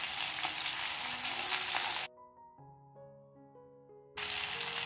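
Fish kebab pieces frying in oil on a flat tawa, Andhra style, give a loud dense sizzle that cuts off abruptly midway and returns just as suddenly at the end, with a brief tonal musical interlude in between.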